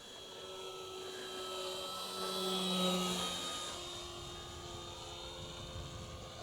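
An Eclipson 3D V2 model airplane flies overhead on reduced throttle, a steady whining motor and propeller drone that swells as it passes nearer and then slowly fades, with no talk.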